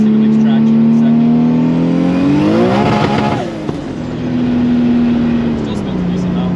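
A car's engine pulls hard under acceleration, its steady drone climbing into a rising, strained roar midway while the wheels spin, then settling back to a constant tone close by.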